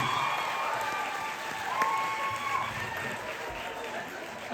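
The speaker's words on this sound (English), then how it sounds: "And now, by the sound of your applause and blood-curdling screams, Rob Benedict." A convention crowd claps and cheers in a steady wash of applause, moderately loud and diffuse, with a voice speaking over it.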